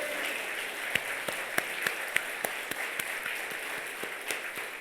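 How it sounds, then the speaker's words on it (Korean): A congregation at a dawn church revival service claps together, a steady wash of applause with a few sharper individual claps standing out, moderately distant and without speech. "우리 새벽에 우리 다 같이 하나님께 영광의 박수 치십시다."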